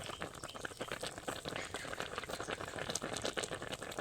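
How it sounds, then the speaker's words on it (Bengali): Egg curry gravy (dim telani) bubbles at a steady boil in a pan, a dense, continuous blub and pop of thick liquid heard close by without any talk. "ঝোলটা ফুটে গেছে"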